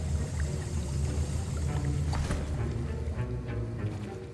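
Potion stirring in the video game Hogwarts Legacy, a steady watery swirling and sloshing with low rumbling, continuous and fairly loud throughout with no talking.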